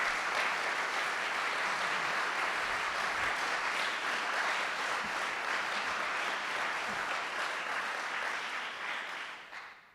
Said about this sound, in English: If we could give each one of these candidates a round of applause,